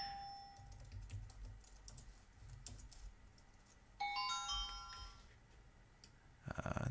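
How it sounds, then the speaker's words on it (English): Barcodes are typed by hand on a computer keyboard in a warehouse software demonstration. Faint, quick key clicks come in irregular bursts, a short electronic ding sounds midway, and a louder clatter comes at the end. "let me actually hand type in the barcodes instead of virtually scanning."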